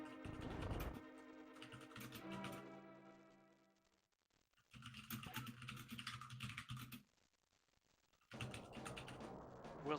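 Loud computer keyboard typing during gaming commentary, with bursts of rapid clacking keystrokes, a quieter lull in the middle, then heavy typing again.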